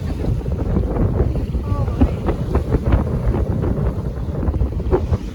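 Sailboat under way at sea at the start of a passage to Puerto Rico, with steady loud wind buffeting the microphone and broadband rush of water and hull noise throughout, no clear speech.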